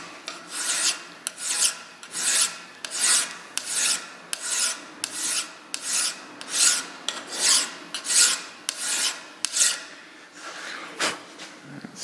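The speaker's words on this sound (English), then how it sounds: "I'll clamp it up, do a little filing on that" Hand file rasping across a clamped metal vise mount in a workshop, steady rhythmic back-and-forth strokes about one per second, loud and close, with no talking.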